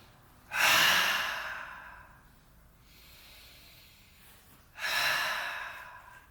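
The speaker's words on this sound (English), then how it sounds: "Inhale the shoulders up and exhale down." Two deep, loud breaths close to the microphone during a yoga warm-up, each a strong breathy rush lasting over a second, with a quieter breath in between.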